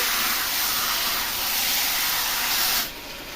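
Marinated chicken sizzles loudly as it is sautéed in oil, a dense steady hiss that drops sharply near the end.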